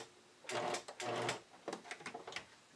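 A sewing machine back tacks the overlapped side seam of a bodysuit in two short close bursts of stitching, followed by a few lighter, quicker runs of the needle.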